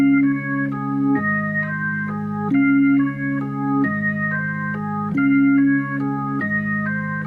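A piano phrase played with both hands, a steady low bass pattern under a repeating higher melodic figure, played evenly and clearly with no voices.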